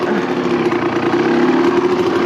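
A 1990 RMX 250 two-stroke dirt bike engine running loud and close, a steady buzzing drone with slight wavering in pitch, no voices.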